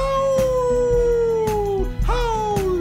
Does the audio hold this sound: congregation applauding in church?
no